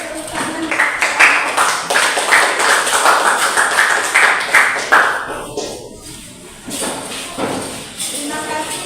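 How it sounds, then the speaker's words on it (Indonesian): Classroom applause follows the end of a group presentation, a dense patter of claps lasting several seconds before thinning out, with voices talking over it. "Oke, tepuk tangan."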